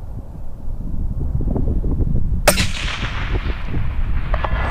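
A single sharp rifle shot fired from a rooftop at a target cracks out loud and close about midway through, over steady wind noise buffeting the microphone and a faint rumbling tail afterward.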